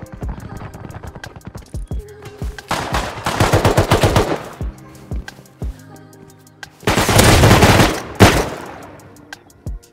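Gunfire in the survival video game Rust: two long, loud bursts of automatic machine-gun fire, with scattered single shots and clattering impacts between them.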